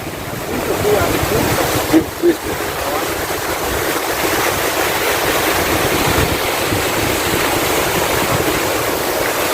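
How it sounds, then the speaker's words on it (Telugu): Waves lap against a brimming check dam near Lingampally, a continuous loud wash of water with wind-like rush and a couple of brief knocks early on. "అలల యొక్క శబ్దం చాలా చూడముచ్చటగా, చూడడానికి వినడానికి చాలా ముచ్చటగా ఉంది"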